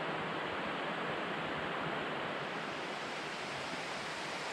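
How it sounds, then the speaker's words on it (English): Deep Creek in the Great Smoky Mountains rushes beside a fern-lined hiking trail, a steady broadband roar of flowing water that stays even and unbroken throughout. "still walking alongside Deep Creek"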